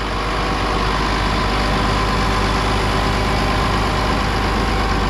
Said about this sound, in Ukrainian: Отакий хлопців трактор.